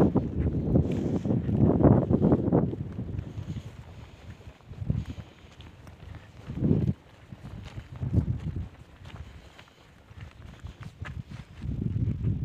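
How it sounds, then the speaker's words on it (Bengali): Strong wind on the Tanglang La mountain pass on the road to Ladakh, buffeting the microphone in uneven, roaring gusts that swell and fade. "প্রচণ্ড জোর হাওয়া দিচ্ছে, বেশি জোরে কথাও বলতে পারছি না।"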